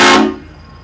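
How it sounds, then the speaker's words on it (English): Four-tube train horns fitted to a Scion FR-S at a car show give one loud, brassy blast that cuts off after a split second and leaves a fading ring. "So I'll give you a little quick sound of the train horn."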